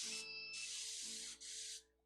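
An airbrush spraying paint for a T-shirt gives a steady close hiss in three short bursts with brief breaks, then cuts off near the end.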